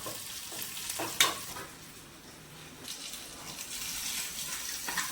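Lentil curry with ripe areca nut being stirred in a pan, soft sizzling under a few scraping stirs and a sharp clink, close and quiet, no talk.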